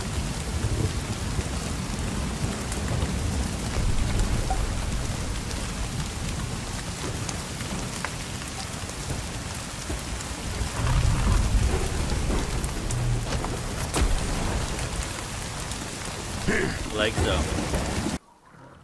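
A thunderstorm in The Cycle: Frontier video game: loud, dense rain pours steadily throughout, with low thunder rumbling beneath it and a brief spoken phrase near the start.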